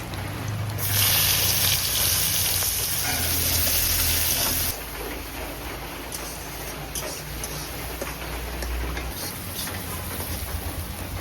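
Whole garam masala, bay leaves and chopped onion dropped into hot oil left from frying eggs, a loud bright hiss that flares up then settles into a steady, softer sizzle, close by.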